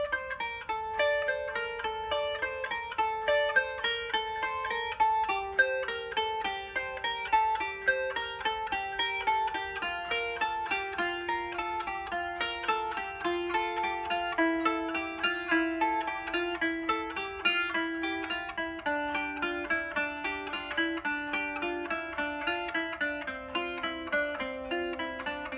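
A kanun plays a brush-technique exercise: a steady run of quick, even plucked notes in repeating patterns, bright and close, with no voices.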